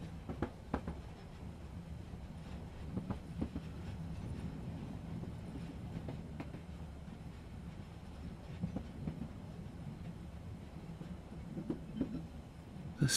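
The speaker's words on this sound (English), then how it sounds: "The sound of the train becomes steady as it rounds the mountain." A train rumbles steadily along the rails, low and continuous, with occasional clicks and knocks from the wheels over the track.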